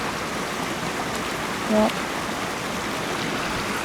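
Little waterfalls in a riverbed on a forest trail make a steady, broad rush of water. Someone briefly speaks a word partway through.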